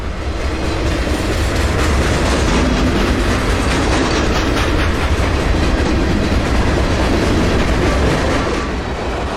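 A CSX freight train of gondola cars loaded with spent cross ties rolls steadily past up close, a loud continuous rumble with rhythmic wheel clatter throughout and no voices.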